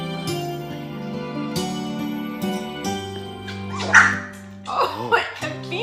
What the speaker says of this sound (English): Oh, Athena, are you gonna bark at mommy's tail?